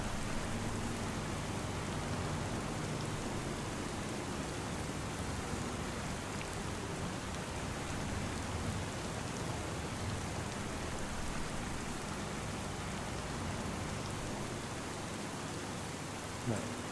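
Steady in-game rainfall in Farming Simulator 25, a constant hiss of rain on surfaces holding an even level throughout, with no talk over it.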